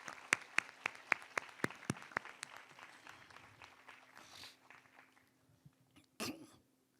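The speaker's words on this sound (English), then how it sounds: "I think he deserves a better applause." Audience members at the TCS Inquizitive 2025 Ahmedabad regional quiz finals clap for chief guest Dr. Narottam Sahu, sharp separate claps that thin out and trail off, with a cough near the end.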